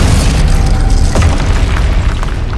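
A Confringo blasting spell explodes in the Hogwarts Legacy video game, a deep, rumbling boom that swells and lingers for a couple of seconds amid in-game ambience.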